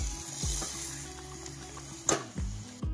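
Gravy bubbling and sizzling in a pan on a gas stove, a steady close simmer with a few soft clunks and a sharp clink of a utensil, no talk.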